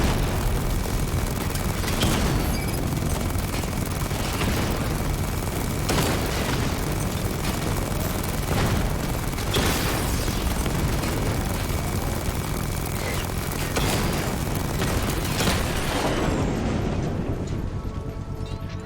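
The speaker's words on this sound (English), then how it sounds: "I can use the power winch to trigger a controlled explosion." A controlled bomb explosion in Batman: Arkham Knight sounds as a continuous loud, rumbling roar with repeated booming bursts across the clip, fading toward the end.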